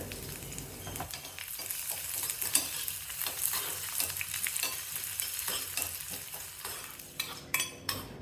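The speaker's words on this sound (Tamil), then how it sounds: "4 இல்லை 5 சின்ன வெங்காயம் பொடிசாக வெட்டி அதையும் சேர்த்து நல்லா வதக்கிட்டு" Shallots, curry leaves and fenugreek sauté in a pan for a mango buttermilk curry, giving a steady close sizzle and frying hiss with repeated stirring scrapes, then a few sharper clinks near the end.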